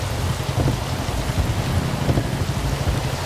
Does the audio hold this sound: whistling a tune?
no